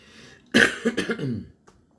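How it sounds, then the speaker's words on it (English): A single close, rough cough followed by a brief throat-clearing rasp, then quiet. "sorry for this little weird cough thing I've got going on."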